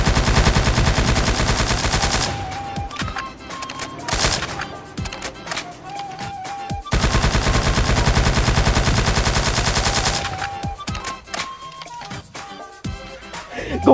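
Roblox battle game combat: long bursts of rapid automatic gunfire and rocket-launcher shots, loud and dense, broken by short gaps with scattered single blasts and game effects, with a voice talking at times.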